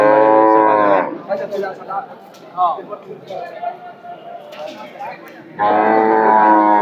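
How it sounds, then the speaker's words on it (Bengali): A buffalo at a livestock market in Gazipur, Bangladesh lets out two long, loud bellowing moos, one at the start and one at the end, with market chatter and voices in between. "চমৎকার চমৎকার মহিষ রয়েছে আজকের হাটে পর্যাপ্ত পরিমাণে মহিষের"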